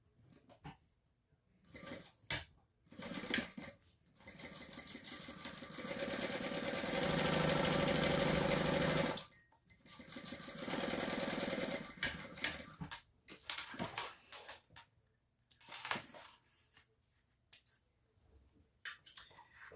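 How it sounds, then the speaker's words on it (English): A sewing machine runs at a steady, close hum while top stitching a folded pocket lining, with short starts before one long continuous run and quieter stitching bursts afterward. "Fold it in half, top stitch across this straight edge"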